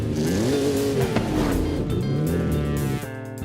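A 2019 Ford Velociraptor 6x6 engine in Forza Horizon 5 revs and drones with a rising and falling whine, fairly loud and continuous, then drops to a lower steady tone near the end, with no talk.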